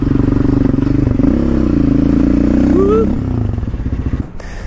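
A quad ATV engine idles steadily and loud and close at a gas station, with a brief rise in pitch near the end before it cuts off, under a voice talking.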